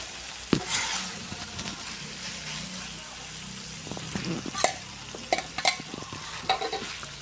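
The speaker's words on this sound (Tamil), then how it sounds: "கிண்டிக்கிட்டே இருக்கணும் அதை நல்லா வெந்து வந்துருச்சு வறுபட்டு வந்துருச்சு" Chicken fry being stirred as it fries in a pan, a low sizzle broken by scattered scrapes and utensil clinks that grow busier toward the end, with brief murmurs of a voice at times.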